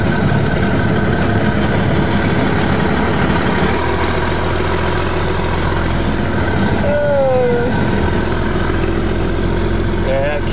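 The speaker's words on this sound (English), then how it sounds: "Here's our convoy, 30 some odd vehicles. This one right here is our ride." A military 5-ton truck idles among a convoy of thirty-odd vehicles at a rest stop in Iraq, a loud low rumbling drone throughout, with people talking over it.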